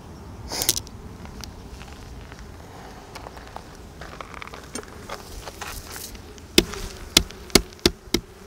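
Honeybees buzz around a hive entrance in a continuous insect hum, with a few sharp knocks and taps near the end.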